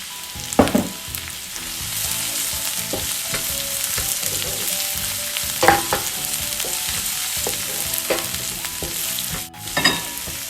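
Garlic sizzles in hot olive oil in a pan, a steady crackling fry broken by a few sharp scrapes and clatters of a utensil stirring, close up with no talking.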